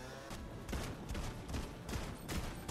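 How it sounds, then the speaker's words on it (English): Shotgun blasts in Fortnite Chapter 5 Season 1, several heavy booming shots spaced roughly every half second, dense and close amid busy game noise. "Look at this shotgun! It's absolutely deadly."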